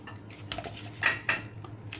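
Sliced bananas being dropped into a bowl in a home kitchen while making a jelly cake, giving a few soft clinks and taps with quiet gaps between them.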